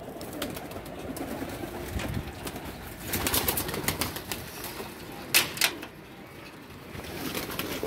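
Golden and Teddy flying pigeons coo amid soft wingbeats and rustling in a loft, the calls steady and fairly close, with a brief louder flutter of wings partway through.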